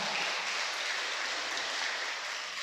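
Steady applause from a crowd, a continuous wash of clapping that stays even throughout, somewhat distant.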